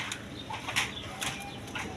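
Big-sized quality pigeons at a farm, soft cooing calls mixed with short bursts of flapping wings, close and moderately quiet over a faint background hiss.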